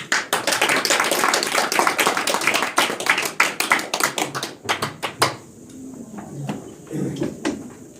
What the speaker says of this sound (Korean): 좀 뜨겁게 박수로 맞아주시기 바랍니다.